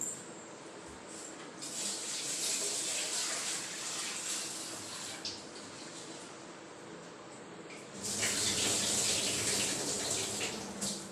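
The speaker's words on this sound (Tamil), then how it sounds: "அரிசி போட்டு பருப்பு களைஞ்சி வச்சுட்டேன்" Lentils (dal) being rinsed by hand in a bowl of water, a steady close splashing and swishing that swells louder toward the end, with no talking.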